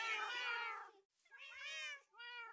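Several cat meows from a Minecraft game, three separate calls with short gaps between them, close and clear with no talking over them.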